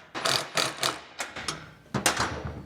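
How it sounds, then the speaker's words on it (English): Milwaukee battery-powered 3/8 drive impact wrench tightening a 13 millimeter bolt on a truck frame, a series of short, close, loud mechanical rattling bursts in uneven rhythm. "We got a 3/8 drive, Milwaukee, battery-powered wrench."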